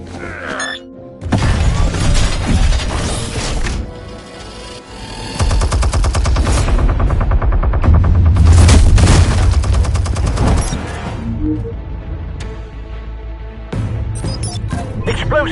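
Gunfire and explosions in the Telltale Batman game, dense rapid volleys of shots with crashing, shattering impacts and booms, loud and nearly continuous with brief lulls.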